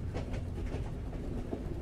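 Train ride ambience inside rail cars, a steady rumbling roll with soft rhythmic clickety-clack beats of wheels over rail joints, heard up close with no talk.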